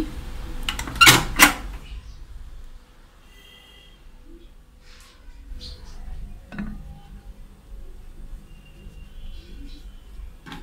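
A cake pan for tiffin cake is set into a microwave oven and covered with a lid: a couple of sharp metallic clanks close up near the start, then near-quiet with a few faint small knocks.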